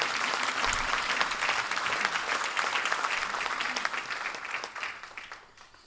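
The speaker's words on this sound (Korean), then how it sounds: "박수 한번 주십시오." Audience at a political talk concert in Wonju, Gangwon Province, breaks into loud, dense applause from a large crowd, sustained for several seconds before tapering off near the end.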